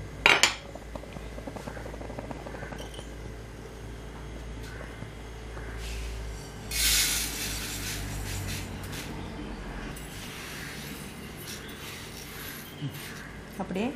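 Roasted sesame seeds are scraped from a pan onto another plate, giving a steady soft rattling and scraping of utensil on metal, with a few louder clinks, under a low kitchen hum.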